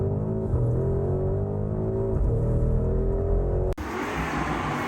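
A Porsche Cayenne Turbo GT accelerates hard with its overboost mode engaged, the engine note rising steadily and loud from inside the cabin before a sudden shift-like break and a continued roaring surge.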